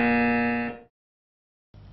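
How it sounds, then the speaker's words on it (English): A loud, flat electronic quiz-show buzzer sounds for nearly a second, cuts to silence, then sounds again briefly. "Finally the buzzer going off there"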